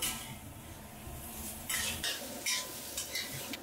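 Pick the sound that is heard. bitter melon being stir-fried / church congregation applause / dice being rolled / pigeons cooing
bitter melon being stir-fried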